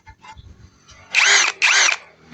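Cordless power drill revving twice in short whining bursts of roughly half a second each, loud and close, after a few faint clicks and handling sounds.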